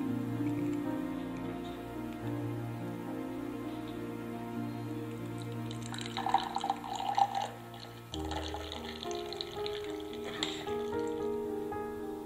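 Freshly blended orange juice is poured through a filter, making a close, steady trickle and drip of liquid with a few brighter splashes partway through and no voices.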